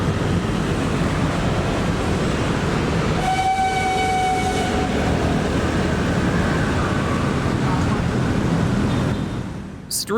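A freight train rumbles past up close in a steady, broad roar of wheels and cars, with a horn blast sounding briefly partway through before the noise fades at the end.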